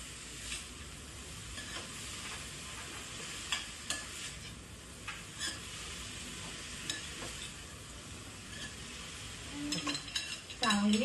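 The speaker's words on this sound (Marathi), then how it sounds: "ही भाजी टाकल्यावरती ती चांगली मिक्स करून घ्यायची आहे." Wild vegetable bhaji is stirred in a hot pan, a faint sizzle running steadily beneath soft, irregular scrapes and clicks of the spoon, growing a little busier toward the end.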